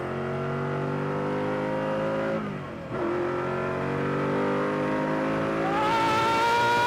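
Koenigsegg CCXR Edition running on ethanol, a loud, close engine roar under strong acceleration, briefly dipping at a gear change before climbing again in pitch, continuous and without speech.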